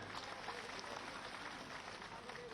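Crowd at an outdoor political rally in Morena district clapping to welcome Uma Bharti, a dense, sustained wash of applause at moderate distance with no clear speech over it.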